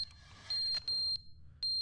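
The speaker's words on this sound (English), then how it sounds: "the batteries in the smoke detector are gone." A smoke detector with dead batteries chirps in The Stanley Parable video game. Short, high, faint electronic beeps repeat irregularly over a low steady hum, with no talking.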